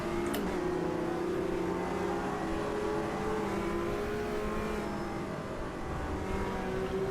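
A steady GT4 race car engine in the Automobilista 2 racing game drones throughout at moderate level, with subtle pitch shifts as it holds speed, no voices.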